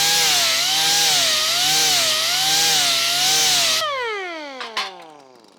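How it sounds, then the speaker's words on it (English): An angle grinder fitted with a 60 grit disc grinds steadily on a metal car door panel, a loud close whine rising and dipping with pressure, then spinning down after about four seconds with a couple of light knocks. "my usual grinding grit for most of my metalwork is a 60 grit"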